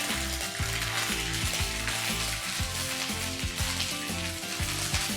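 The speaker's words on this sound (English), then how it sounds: "in the same oil, I'm going to add a teaspoon of ginger paste and a teaspoon of garlic paste and fry it" Ginger and garlic paste fries in oil, a dense, continuous sizzle heard close up beneath steady background music.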